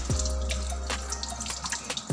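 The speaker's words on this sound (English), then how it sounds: "Then, rinse your hands" Steady close tap water streaming into a sink as hands and forearms are rinsed, continuous and fairly loud with small splashes throughout.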